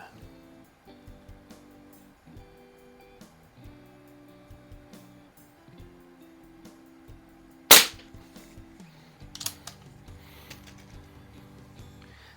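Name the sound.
shooting a .22 air rifle at a splatter target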